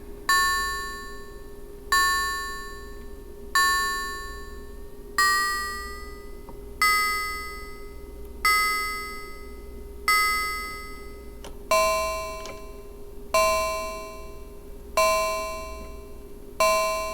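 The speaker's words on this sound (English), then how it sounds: "bell-like sort of a sound." Bell-like tones from a ring modulator synthesizer strike about every second and a half, each with a sharp attack and slow metallic decay, over a steady low drone.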